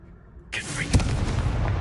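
A Confringo blasting spell goes off in Hogwarts Legacy, a single sharp explosive burst with a booming body that rings on briefly, loud and close.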